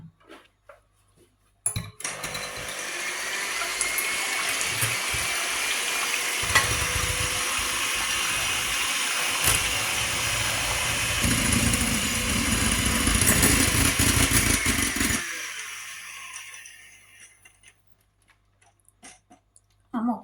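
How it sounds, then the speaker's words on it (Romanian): Egg whites with a pinch of salt beaten by an electric mixer, a loud continuous whirring drone lasting about thirteen seconds, starting and stopping abruptly with a brief clatter at the end. "Am să pun un vârf de linguriță sare și bat albușurile."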